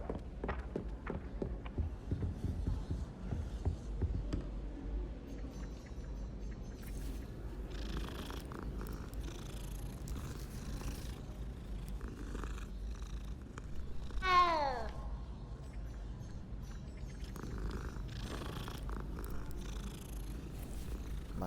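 A cat purrs in a soft, steady rumble up close through a quiet late-night room, with a brief faint meow-like sound partway through and light rustles around it.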